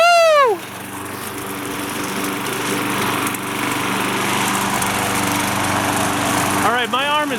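A Craftsman 6.75hp lawnmower mowing a suburban lawn and chewing through leaves, its engine droning steadily and close with a sharp pitch swoop at the start and a revving burst near the end.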